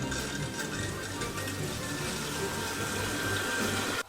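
Water steadily rushing and filling a fixture in a vintage mobile home bathroom, with a constant, fairly close flow and no talking.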